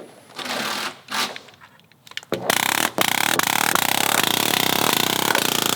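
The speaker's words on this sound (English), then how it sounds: "we're gonna use the nail gun to install these 8 nails that go into the side of the ledger" A pneumatic nail gun drives eight nails into the side of a joist hanger against a deck ledger, giving a quick series of loud sharp bangs, preceded by some quieter handling noise.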